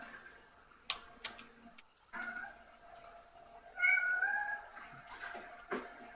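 A cat meows in a drawn-out, mournful tone near the middle, with scattered clicks and ticking sounds around it and no speech.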